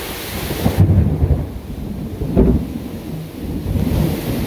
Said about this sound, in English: Nice lightning strike there.